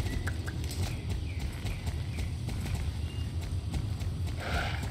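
Horse hooves in the video game Star Stable Online, a steady rapid clip-clop of a trotting horse running continuously over game music and ambience.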